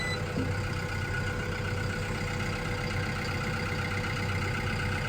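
A Cat D3 bulldozer engine idles steadily, a low continuous diesel rumble with a faint high whine, constant in level and unbroken by talk.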